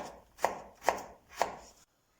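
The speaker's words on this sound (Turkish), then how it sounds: "Havuçları biraz patateslerden biraz daha küçük doğrarsanız daha iyi olur" Three crisp, evenly spaced knife chops as carrots are cut into cubes on a board for a pea, potato and carrot stew, close and loud with no talking, then silence.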